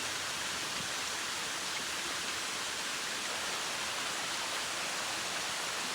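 Panther Creek Falls pours steadily in a remote forest setting, a constant even rush of falling water heard faintly and without any voices.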